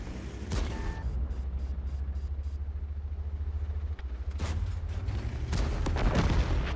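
A tank cannon in World of Tanks fires blind shots, with several loud booming blasts over a steady engine rumble and no talk.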